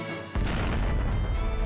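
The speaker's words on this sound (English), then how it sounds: "I wonder if I can blow this up with a bomb." Bomb blast in the Atelier Rorona: The Alchemist of Arland DX game on Switch, a sudden loud boom that hits hard and then holds as a dense rumbling roar.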